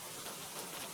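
Steady rain ambience, a dense even hiss of falling raindrops with no pauses, soft and close, with no voices.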